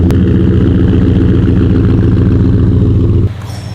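A truck engine idles with a steady, loud, low rumble that holds even for about three seconds. It then drops abruptly to a quieter hum.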